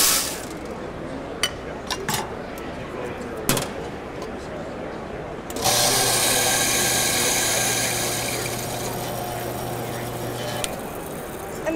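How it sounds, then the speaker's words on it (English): A coffee grinder set to a coarse setting of 8 starts partway through with a steady whirring grind that runs for several seconds, after quieter clinks and background room noise. "we've got the grinder over here set at 8, which is kind of coarse"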